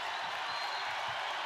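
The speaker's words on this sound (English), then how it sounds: "Crowd's getting loud" Basketball arena crowd at a UCLA versus Iowa women's college game, a dense, steady roar of cheering filling the space for a brief moment.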